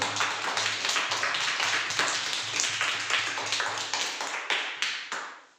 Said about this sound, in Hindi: हम परमेश्वर के लिए अच्छा ताली बजाते हुए आगे बढ़ेंगे